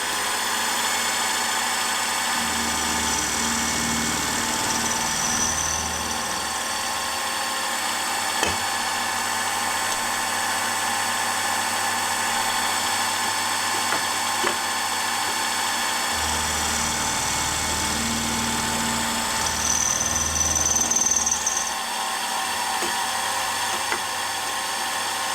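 A milling machine cutting conrods for a Jerry Howell V-twin model engine runs as a steady mechanical drone, with its motor hum and cutting noise rising in two longer stretches and no one talking.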